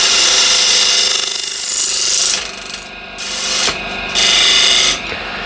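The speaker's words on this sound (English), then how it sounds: "I want to scrape that as well, so you can see that you can scrape the end grain, side grain portion here as well" A refiner scraper rasps across wood, working the end grain and side grain; steady dry scraping strokes, close and loud, come in several bursts with short pauses and no talking.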